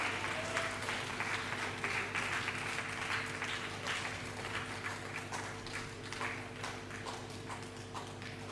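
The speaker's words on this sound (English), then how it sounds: "Continue clapping." Steady rhythmic clapping from an audience at an International Missing Children's Day gathering, a brisk even beat of many hands sustained throughout, with a low hum beneath.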